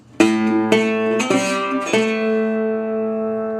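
Slide guitar plays a short riff from a song, about four plucked notes with ringing, gliding pitches that sustain and fade, close and alone.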